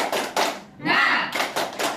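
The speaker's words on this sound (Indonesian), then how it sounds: "Tepuk semangat." A classroom group performs a rhythmic spirit clap, a few short bursts of hand claps in a patterned beat with a brief pause and a quick voiced chant between them, close and moderately loud.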